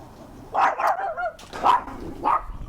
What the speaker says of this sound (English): We'll leave Bella to the chicken barking